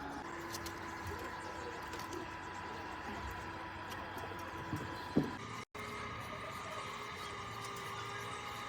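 Pigeons coo softly in a steady background murmur, with a brief flutter and bump partway through and faint ambient hum throughout.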